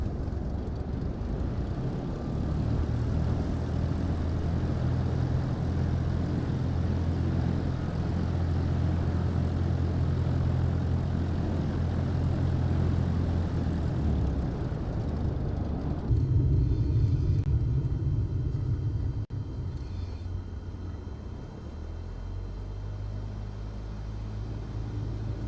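A Cessna 172 piston engine at takeoff in Microsoft Flight Simulator 2024 gives a loud, steady propeller drone and rumble throughout, shifting in tone partway through, with no voices.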